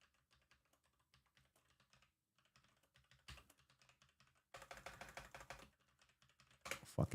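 Quiet clicking of keys on a computer keyboard, scattered taps at first, then busier bursts of typing toward the end, close and faint with no talk.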